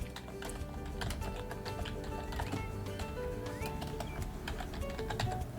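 Typing on a computer keyboard while renaming a station in the game City Bus Manager, with quick light key clicks scattered over steady background music, faint and close.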